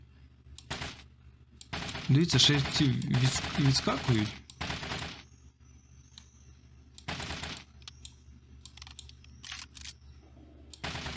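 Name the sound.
gunfire in a video game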